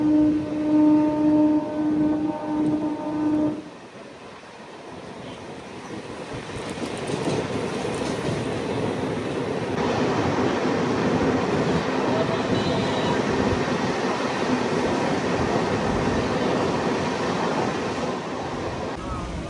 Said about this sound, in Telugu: అదిగా ఈ రూట్ లో టనల్ జర్నీ ఎంటర్ అవుతుంది మన ట్రైన్ టనల్ లోకి